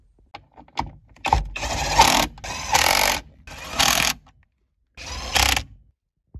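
A manual shifter is bolted into a Toyota MR2 during an automatic-to-manual conversion, with close, loud bursts of ratcheting and mechanical tool noise separated by short silent gaps.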